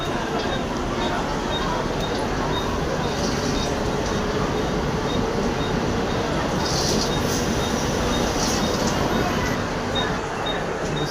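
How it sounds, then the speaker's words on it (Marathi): Crowded Mumbai local train pulling into a station at rush hour, a steady loud rumble and rattle of carriages with a busy platform crowd murmuring around it throughout. "दुसरी ट्रेन आली आहे लगेच."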